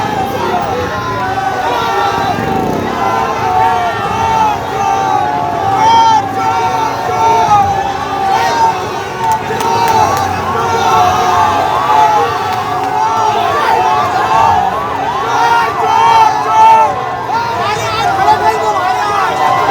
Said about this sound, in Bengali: বারাসাতের শুভেন্দু অধিকারীর কনভয় লক্ষ্য করে স্লোগান তৃণমূল কংগ্রেসের,